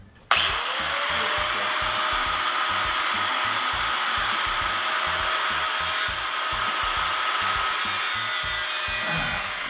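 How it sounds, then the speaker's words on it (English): An angle grinder cutting through motorcycle chain links during a Honda CB350 build, a loud continuous high whine with harsh grinding, steady and close for nearly ten seconds, the motor spinning down at the end. "I use an angle grinder like this to grind off the links"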